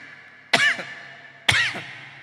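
A man imitates a smoker's cough with two harsh, loud coughing bursts about a second apart, close up, each trailing off with a raspy rattle.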